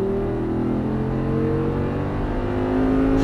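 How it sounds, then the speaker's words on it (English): An Audi R8 V10 accelerates out of a chicane on a race track, its engine a steady, loud drone with harmonic tones rising slowly in pitch as the revs climb. "start squeezing back on throttle, accelerating out"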